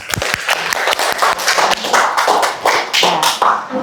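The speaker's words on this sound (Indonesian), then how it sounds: "Tepuk tangan sekali lagi." A classroom of students claps for a group that has just presented, uneven and loosely rhythmic hand claps with sharp taps and thuds, fairly close.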